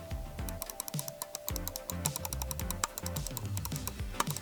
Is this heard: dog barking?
no